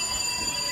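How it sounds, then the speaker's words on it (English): A building fire alarm going off in Edinburgh, a continuous steady electronic tone with several sustained pitched components, loud and unbroken throughout the short moment. "Just as we were about to try our whiskey, the fire alarm went off. It's still going off."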